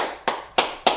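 Hands clap in applause for children at the ISCPK: three sharp, loud claps land at an even pace, each one ringing briefly before the next.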